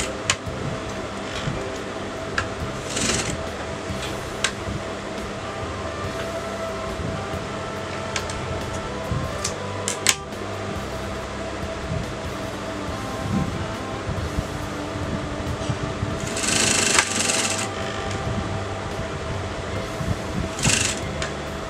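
A sewing machine top-stitching along a folded raw edge of fabric, its steady mechanical whir running throughout at close range, with a few louder surges and no voices.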